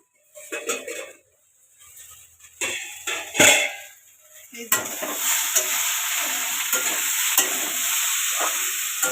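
Okra sizzles steadily as it fries in a pan in a home kitchen. A spoon scrapes and stirs, and a few metal clinks sound before the frying settles into a continuous hiss.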